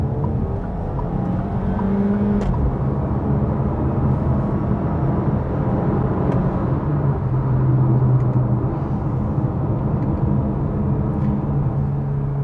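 A Fiat Fastback Abarth Turbo 270 accelerates hard in its Poison sport mode, with a loud, continuous engine roar and deep rumble heard from inside the cabin, holding steady and swelling slightly near the middle.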